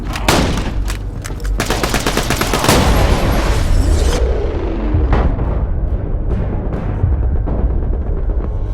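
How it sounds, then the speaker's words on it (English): A grenade detonates in Borderlands 2 amid continuous heavy gunfire, a loud boom with rumbling tail around the middle, followed by scattered shots and impacts as the firefight continues. "Grenade out!"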